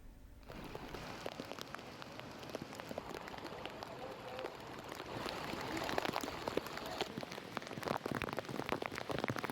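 Steady, dense heavy rain hammering down on a surface in Dwarka, a continuous broadband wash that grows a little heavier midway, with no voices.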